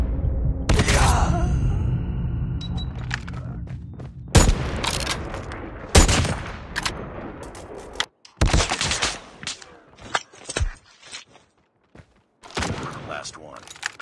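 Gunshots in the video game Call of Duty during a Search and Destroy match: loud, close bursts and single cracks firing repeatedly and irregularly, with heavy booming impacts and a brief quieter gap near the end.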